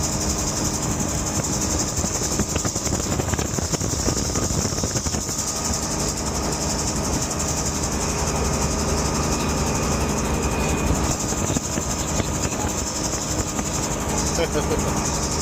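Bell 47 helicopter engine as the throttle is rolled up, a loud, steady, dense drone with broad vibration and a faint high whine, heard from inside close to the engine, with a voice speaking over it.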